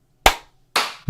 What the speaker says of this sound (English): Try one synchronous clap.